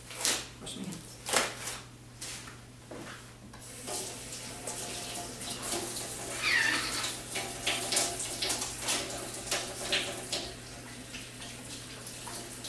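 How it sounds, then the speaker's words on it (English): A tap runs steadily into a sink while hands are washed, a soft continuous rush of water with splashing variations and a low hum beneath, fairly quiet. "then I would wash my hands"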